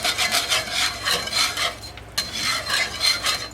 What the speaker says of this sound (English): We can scrape off any of the pork chop on the bottom.